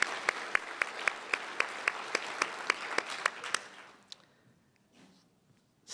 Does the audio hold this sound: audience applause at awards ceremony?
yes